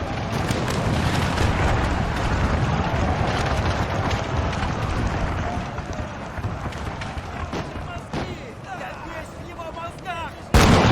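Massed musket volleys fired by rank in a Napoleonic battle game roll on continuously as dense crackling gunfire and distant rumble, with a brief loud burst at the end.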